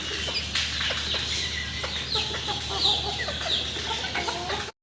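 Fancy-breed chickens and small chicks on a farm cluck and chirp continuously, with several birds calling close by over a low steady background hum. The sound is busy and fairly loud, and no voices are heard.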